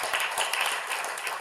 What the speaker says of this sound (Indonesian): Berikan tepuk tangan untuk Yesus.